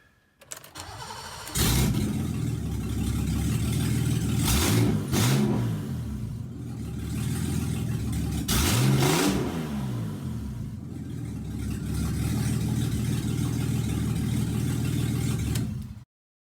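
A BMW E28 535i six-cylinder, revived after sitting for 18 years, cranks and fires, then runs loud and close with several sharp revs rising and falling before cutting off.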